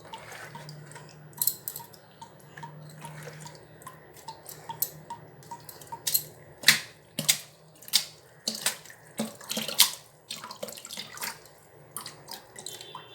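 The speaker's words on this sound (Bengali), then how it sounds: "আরও একবারে কল খুলে ভালো করে ধুয়ে নিচ্ছি" Running tap water splashes over brahmi greens being washed in a sink, uneven splashes and drips coming in irregular bursts up close, with a soft background hiss between them.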